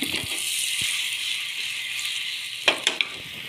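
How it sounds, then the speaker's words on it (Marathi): A vegetarian egg frying in ghee with a little red chili powder in a pan, heard as a soft, steady sizzle with a few brief rattling clinks near the end and no voices. "यावरती हे अंडे असे सोडून द्यायचे आपल्याला. आणि सोडून दिल्यानंतर अशा प्रकारे छान मस्त फ्राय करून घ्यायचे आहेत."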